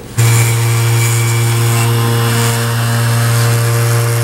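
A power tool grinds the rough edges off an epoxy repair on a leaking carburetor float bowl, a loud continuous whine that starts abruptly and holds steady throughout.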